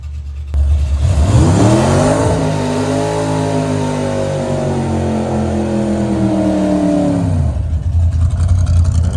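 A Mark II Golf gasser drag car at Santa Pod revs hard, its engine note climbing and holding steady for several seconds before dropping away abruptly, loud and close with no talk over it.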